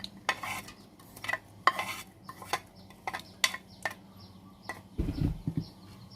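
Chili, shallots and chopped mango tossed into a banana blossom salad, giving a run of crisp clinks and scrapes of utensils against a bowl with short pauses, then a low rumbling stir near the end.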